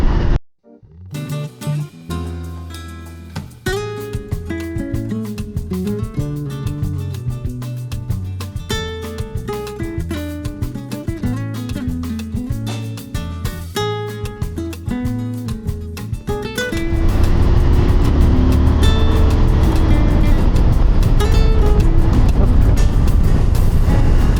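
A CFMOTO 1000 MTX motorcycle engine under way, its revs rising and falling through several steps, then giving way to a loud, steady rush of wind noise while riding.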